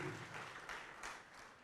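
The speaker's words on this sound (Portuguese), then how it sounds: "Vamos aplaudir mais" Applause from a church congregation fills a short stretch, a broad steady wash of many hands clapping, fairly faint and distant, with no talk over it.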